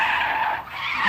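Tires screech in a loud, sustained squeal as a V8-swapped BMW E28 drifts on a street, the skid close and unbroken for about a second.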